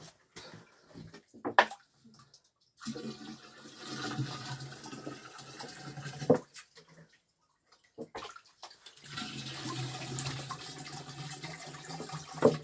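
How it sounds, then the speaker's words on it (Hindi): Spring water flowing up from the ground in hilly Ranikhet, Uttarakhand, is collected into a container, heard as intermittent splashing and pouring in uneven bursts with brief quiet gaps, fairly faint and with no talking. "तो मैम ने ये पानी भर लिया है, इस तरह से पानी भरते हैं।"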